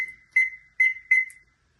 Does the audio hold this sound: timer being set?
yes